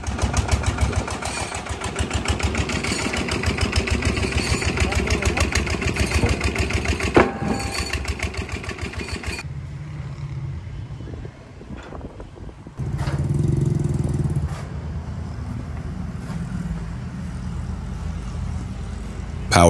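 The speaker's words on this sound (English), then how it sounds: "Powering this entire process is a heavy diesel engine, a machine as raw as it is beautiful." Heavy diesel engine runs in a concrete RCC pipe factory, a steady loud mechanical chugging with rapid regular pulses throughout, then a quieter stretch with a brief louder burst near the end.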